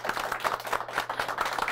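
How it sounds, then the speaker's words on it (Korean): An audience claps for the MC at a book forum, a steady patter of many hands, moderately loud, with no talk over it. "오늘 MC 본 이동원 씨한테 박수 부탁드리겠습니다"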